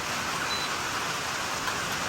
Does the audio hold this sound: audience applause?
no